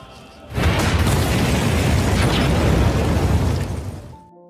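A car explodes in a film: a sudden loud blast erupts after a brief quiet moment, then a dense roaring rumble sustains for a few seconds before fading out.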